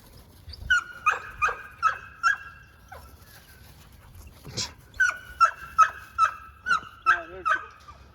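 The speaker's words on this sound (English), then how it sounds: "listen for the bark" A dog, an American Pit Bull Terrier or American Sentinel, barks repeatedly in a steady rhythm, sharp and fairly close, pausing briefly midway before another run of barks.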